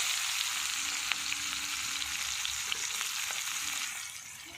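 Chopped onions fry in hot mustard oil with spices, giving a steady, close sizzle with faint scraping and stirring clicks throughout, easing off slightly at the end.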